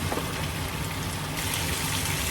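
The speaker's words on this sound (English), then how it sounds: "Now I'm going to grab some boiling water" A steady rush of boiling water pouring into a pot fills the clip, continuous and close, with no voices.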